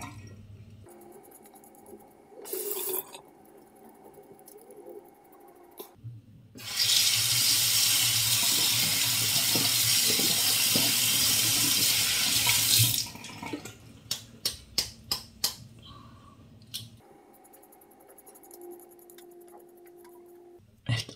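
An Arko Men 2 Pro electric shaver is rinsed under a running tap, a steady six-second rush of water into a sink, followed by several short knocking taps and quieter handling.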